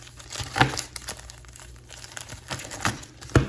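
2020 Bowman trading card packs are ripped open close by, with sharp crinkling foil wrapper bursts and tearing at an irregular quick pace.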